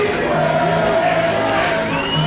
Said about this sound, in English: The crowd seems to really be enjoying this theme song, folks.